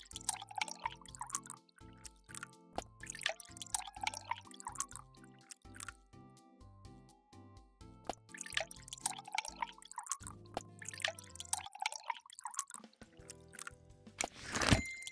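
Plants being watered in the café management game Espresso Tycoon, a run of soft, repeated pouring and dripping water sounds over a light plucked game music bed, ending in a bright sparkling chime.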